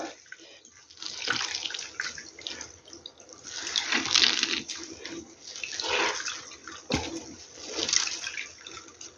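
Water scooped by hand into a minced meat patty mixture, heard as repeated swells of splashing and trickling water close by, with no talk.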